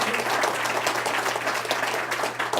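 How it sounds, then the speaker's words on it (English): A crowd at an evening event honoring Ambassador Delano Lewis claps in steady, dense applause that stays loud and even throughout, with no break or voice rising above it. "I'd like us all to just give him a quick round of applause."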